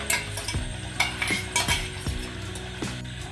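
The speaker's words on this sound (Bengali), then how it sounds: "কাজুর পেস্টটা দিয়ে এটাকে আর বেশ কিছুক্ষণ কষতে হবে" Chicken masala with almond and cashew paste is stirred in a pan: a spoon scrapes and clinks rhythmically against the metal every half second or so over a soft sizzle.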